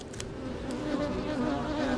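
Honey bees buzz in a dense, steady drone around an open hive, close and continuous for the whole stretch, with a few brief higher whines from individual bees passing near.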